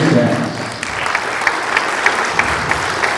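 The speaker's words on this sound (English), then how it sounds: "You can applaud, that's all right." Applause from an audience at a school band concert, steady and loud across the whole stretch, with scattered sharper claps standing out toward the end and a faint voice early on.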